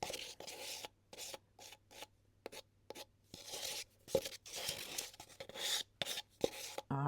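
Tool scraping resin out of a container, a series of short, close, rasping strokes separated by brief pauses, repeated steadily for several seconds.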